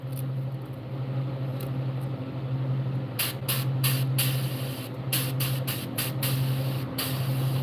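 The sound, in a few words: airbrush spraying paint on largemouth bass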